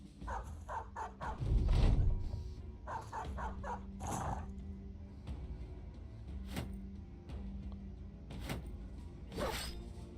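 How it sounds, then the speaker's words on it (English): Dogs in combat in the video game Battle Brothers, including a heavily armored war dog: scattered short yips, barks and whimpers among clanking battle effects over about ten seconds, moderately loud with irregular bursts. "Don't kill our heavily armored war dog."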